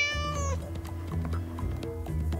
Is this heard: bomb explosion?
no